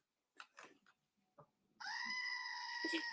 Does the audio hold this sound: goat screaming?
yes